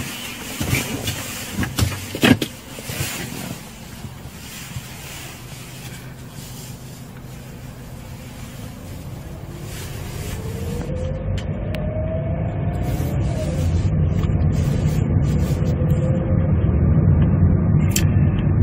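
A 2015 Hyundai LF Sonata LPI with a fault that makes it stall while driving at 50–60 km/h in the city. Steady cabin rumble of engine and road, with a few knocks early on, then a rising drone and a faint whine.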